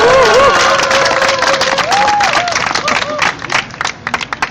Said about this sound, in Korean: 큰 박수 한번 주시면 이번에는 제가 할 얘기가 다 마무리하고 가겠습니다.